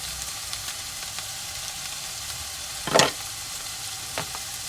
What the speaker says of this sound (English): while we're waiting for these burgers to cook